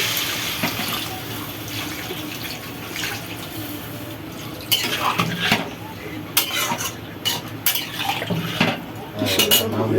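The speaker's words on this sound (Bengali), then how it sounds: "মশলাটা দিয়ে ভালো করে নেড়ে চেড়ে জল ঢেলে দিচ্ছি" A spoon stirs spice mix in a pan for shukto, clinking and scraping against metal, then water pours and splashes in near the microphone, with loud irregular utensil clatter.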